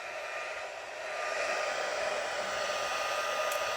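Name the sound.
heat tool blowing hot air for heat embossing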